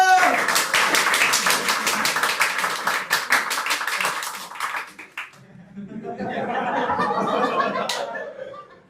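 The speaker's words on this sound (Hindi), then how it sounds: "जोरदार तालियां।" Audience members at a Hindi theatre play clap loudly in distinct, fairly quick claps, which stop briefly before a wave of chuckling and laughter rises from the crowd.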